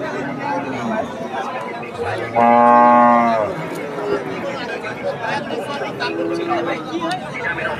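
A single long, loud moo from a Jersey cow rises over a busy crowd of talking people at a cattle market.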